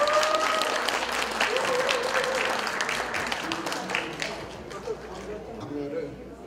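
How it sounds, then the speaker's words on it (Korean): Steady applause from a crowd fills the room, sustained clapping that slowly thins toward the end, with some voices mixed underneath. "정말 이분에게 큰 박수 보냅시다"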